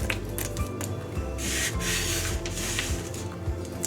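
Pecan and cashew nuts stirred slowly into eggless plum cake batter, a soft continuous rubbing and scraping with a few brief louder scrapes, close by and alone.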